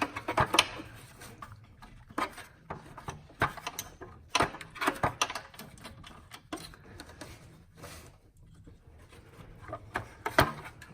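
Ratchet wrench turning a turbo nut on a Fiat 500 Abarth during a turbo blanket install, giving bursts of quick mechanical clicks in irregular rhythm, close and fairly faint, with no talking.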